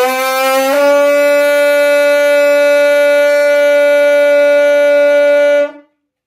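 A trompe de chasse hunting horn sounds one long, loud, steady brassy note after a brief lower start, held for about five seconds before cutting off cleanly.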